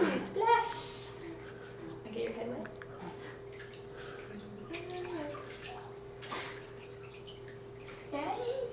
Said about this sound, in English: Ooh, splash.